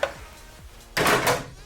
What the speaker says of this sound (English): Then we take the water container out